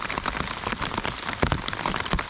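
Steady rain pattering on tents and foliage at a mountain campsite on Namunukula, a dense close hiss of drops throughout with no voices.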